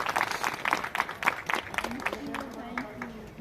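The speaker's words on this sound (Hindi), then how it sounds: "सभी ताली बजाकर स्वागत करेंगे सिस्टर जी का।" An audience at a Christmas celebration claps to welcome a speaker, with scattered, uneven hand claps under a voice talking over them.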